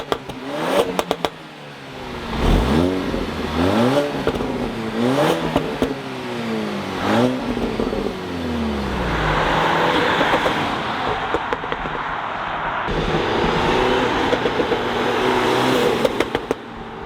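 Tuned stage 3 Audi A4 running E85 with a crackle and anti-lag tune, revving hard several times in close succession, its exhaust popping and crackling between blips before settling into a loud, steady high idle.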